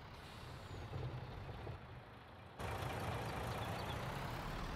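A truck in Farming Simulator 22 on an Alpine map drives in with a steady engine rumble, then grows suddenly louder partway through and holds that level, with no talk over it.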